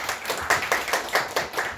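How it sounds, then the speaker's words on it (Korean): Audience at a Korean lecture clapping to welcome a speaker to the stage, a steady rhythmic round of claps at moderate volume with no voices. "큰 박수로 모시도록 하겠습니다."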